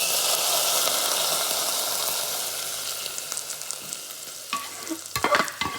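Chillies and sliced shallots frying in a pan until browned, a loud close sizzle that fades gradually, followed near the end by a few sharp spatula scrapes and stirring knocks.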